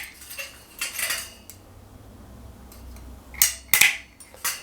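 Metal angle bead is snipped at a 45-degree angle for plastering a boxed-in wall section, giving a few sharp, bright metallic clicks near the end, preceded by lighter clinks over a quiet room background.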